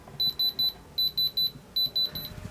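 A sapphire tester beeps on a watch crystal in three quick bursts of three high, clear beeps, near and distinct, with quiet pauses between the groups.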